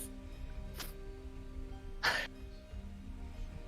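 Single short, sharp cough, quiet and close, on a faint background hum.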